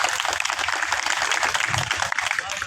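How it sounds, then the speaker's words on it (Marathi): Audience applauding wrestlers at a village kusti wrestling ground in Maltan, a dense, steady patter of many hands clapping throughout, fairly loud and continuous with no break. "पोरं आमच्या गावात खेळतात म्हणून या पोरांसाठी टाळ्या वाजवा"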